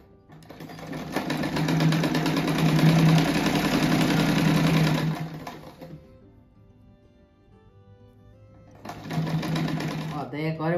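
A sewing machine stitches a seam on a simple pointed-edge rug, humming loudly and rapidly for several seconds, going quiet briefly, then starting up again near the end, with someone speaking Portuguese over it.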